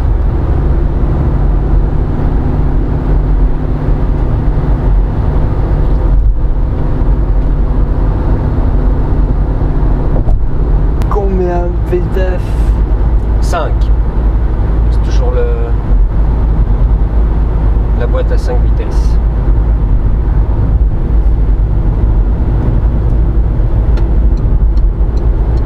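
A Citroën Berlingo runs loud and steady from inside the cabin as it accelerates in third gear, with a constant engine drone and road roar and a few brief squeaks partway through.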